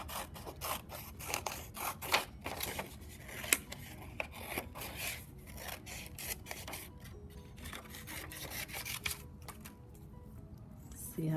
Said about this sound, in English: We'll go ahead and cut these out.